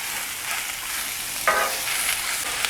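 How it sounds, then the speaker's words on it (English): Chicken seasoned with Kinder's sautés on a Blackstone griddle, giving a continuous close sizzle with a sharp scrape of a spatula midway and no talking. "Do a nice little saute and get some color on them"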